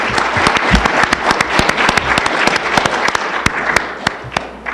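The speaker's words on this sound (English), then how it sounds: "I want to give them a round of applause" An audience claps steadily, a dense round of applause with some sharp individual claps standing out.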